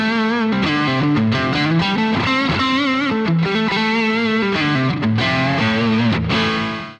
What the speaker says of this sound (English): Now I've gone through all the reverbs on the GT-1000, and for me, the best one is Hall 2.